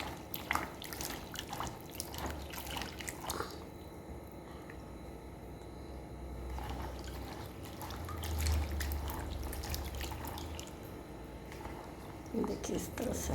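Peeled ginger and garlic being washed in water, with intermittent splashing, dripping and sloshing in a kitchen, fairly quiet and close, while someone talks over parts of it.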